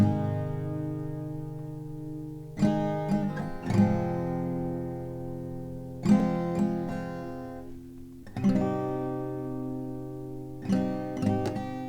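An acoustic guitar plays a verse of a song, with clusters of quick extra strums every two to three seconds between sustained, ringing chords, played close and alone.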